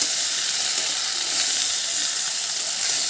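Spice paste for a fish curry sizzles steadily in a hot pan, a dense, even frying hiss that stays loud and constant throughout with no talking.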